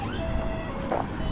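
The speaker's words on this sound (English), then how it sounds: "the ambulance coming down" An ambulance siren sounds faintly and steadily in the distance through 1.3 seconds of outdoor background noise, with a thin wailing tone.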